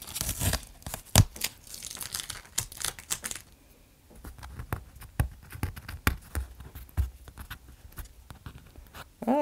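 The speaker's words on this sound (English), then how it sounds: "go to the end of your masking tape and just rip it off slowly, kind of at an angle, to try to keep your paper from getting ripped." Masking tape pulled slowly off paper at an angle, giving a series of short tearing and crinkling rips spread across the span, fairly close and moderately loud with quieter pauses between pulls.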